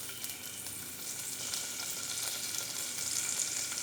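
Curry leaves and asafoetida spluttering in hot oil while tempering for a Tamil Nadu chickpea kuzhambu, a continuous bright crackling sizzle close up with scattered pops.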